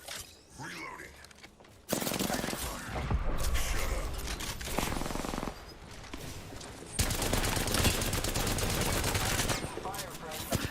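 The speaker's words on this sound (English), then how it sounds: "I am taking fire, friend. I'm under fire." Rapid video game gunfire in a late-night shooter match, loud sustained bursts of automatic fire with short pauses between volleys, close and dense, while a voice speaks now and then.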